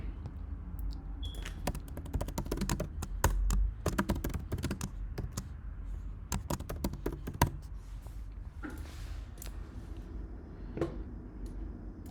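Typing on a computer keyboard while entering a doctor record into a database application: a steady, close clatter of individual key clicks runs throughout, with no talking.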